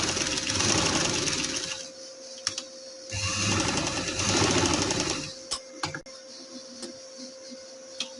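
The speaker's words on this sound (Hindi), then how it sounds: "पहले हम कंधे की सिलाई लगाएंगे।" Sewing machine stitching a shoulder seam on a garment runs in two steady close bursts of whirring, separated by a pause, then a few sharp clicks and taps as it stops.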